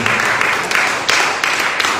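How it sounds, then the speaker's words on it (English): Crowd applause at an Africans Rising event in Abuja for the Activist of the Year runner-up, a dense, loud, sustained burst of many hands clapping with slight surges. "A round of applause for Molene Graga from Ethiopia, who is the second runner-up, first runner-up for Activist of the Year."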